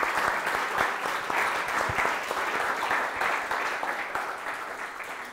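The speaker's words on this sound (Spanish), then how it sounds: "aplaudamos a Image Campus" A crowd at the Global Game Jam 2019 at the Image Campus venue applauds vigorously, a loud, continuous mass of clapping with crisp individual hand claps throughout.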